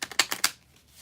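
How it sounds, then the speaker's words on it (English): Oracle cards being shuffled by hand, a few quick crisp riffling bursts close by, then a brief quiet tail with no talking. "I'm going to shuffle up these oracle cards next"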